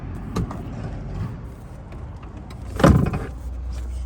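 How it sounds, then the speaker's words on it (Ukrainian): A Honda CR-V's rear seats are folded down by hand, giving a soft mechanical click early on and then a louder, muffled thud as a seatback drops, in an otherwise quiet cabin. "Також це все гарно складається, зручно однією рукою."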